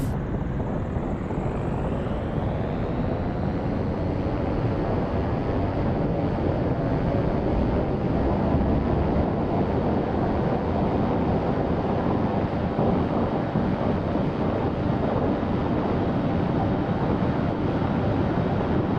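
A Diamond DA40NG single-engine diesel light aircraft in X-Plane 12 roars steadily at full takeoff power, a loud, constant engine drone with rushing wind that holds unbroken throughout, with no talk over it.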